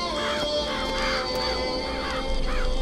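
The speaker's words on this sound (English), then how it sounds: "Having your face picked off by crows is not a good way to go." Crows cawing in Bioshock Infinite, a run of four or five harsh, evenly spaced caws over a steady ambient game hum.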